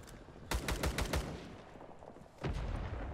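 Gunfire from a weapon in Rising Storm 2: Vietnam: a rapid burst of about five close, loud shots, a pause, then another shot followed by lingering rumble.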